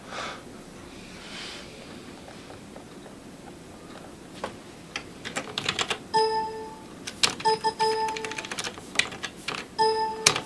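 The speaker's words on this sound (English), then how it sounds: "Stop it, keyboard!" Computer keyboard typing: quiet at first, then a burst of rapid irregular key clicks and clatter in the second half, close and fairly loud, with no talk.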